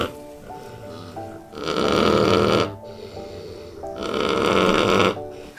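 Young female pigs on a farm snore loudly and close by in two long, rasping breaths separated by a quieter pause.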